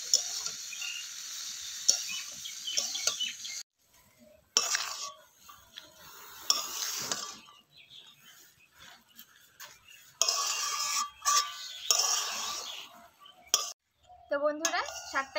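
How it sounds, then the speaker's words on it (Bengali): Bathua greens being stirred and mixed with potato, eggplant and peanuts in a pan: close, intermittent scrapes and metallic clinks of a spatula against the pan, in short bursts broken by quiet pauses. "এবারে শাকের সাথে সবকিছু ভালো করে মিক্স করে নিচ্ছি।"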